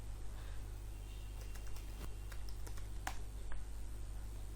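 Computer keyboard typing with a few sparse, light key clicks and taps over a steady electrical hum, close and quiet, with no talking.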